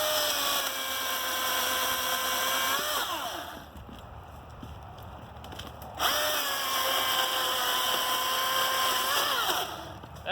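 A battery chainsaw, DeWalt FlexVolt or Milwaukee, cuts through wood in two bursts, each a loud, high motor whine that bogs down as the chain bites, separated by a brief quieter pause.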